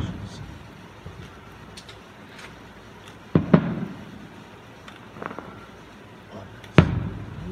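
Distant fireworks boom and crackle in an open outdoor night sky, with scattered thuds and two sharper bursts standing out over a steady low rumble of ambient noise.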